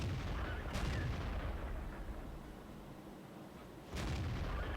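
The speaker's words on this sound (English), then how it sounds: "He fires, it bounces, he reloads high explosive." Tank cannon shots in World of Tanks, two heavy booming blasts a few seconds apart, each with a rumbling tail, loud and close with no talk.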